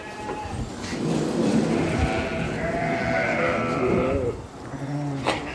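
Several Mor breed ewes from Iğdır, Turkey, bleat over one another in a noisy fattening pen, wavering cries close by with a constant murmur of livestock behind.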